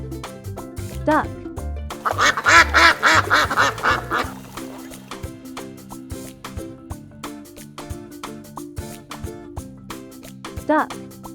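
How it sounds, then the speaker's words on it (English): A duck quacks in a quick burst of about six or seven raspy calls over two seconds, set against a bouncy children's music track that continues after the quacking stops. "Duck."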